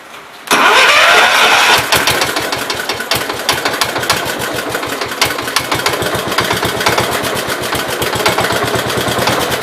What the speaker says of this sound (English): It'll start up, it'll run for a minute, and it'll clear the crap out from underneath the seat.